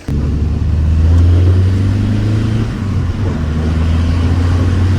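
Turbo diesel Seat Ibiza engine revving hard on a road in Portugal, a loud, steady low drone that dips briefly mid-way and then pulls strongly again, with no talking over it.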